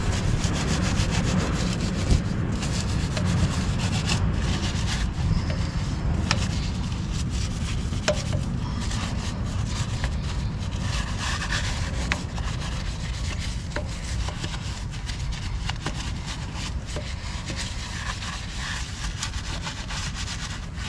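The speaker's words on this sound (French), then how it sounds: "je prends une petite brosse pour nettoyer un peu plus" A small brush scrubs a dirty car wheel rim up close with steady, continuous rubbing strokes, sustained and fairly loud, and no talking.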